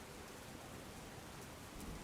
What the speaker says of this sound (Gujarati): ધીમે ધારે પણ વરસાદ જે રીતે વરસી રહ્યો છે